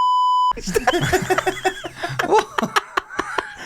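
A steady high-pitched censor beep holds for about half a second, then cuts to lively talk and laughter from several people.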